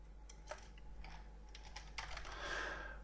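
Typing on a computer keyboard comes as a quick burst of light key clicks, close and quiet, with no talking.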